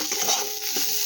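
Pointed gourd and potato pieces frying together in a pan, a close, even sizzle with a soft stirring scrape.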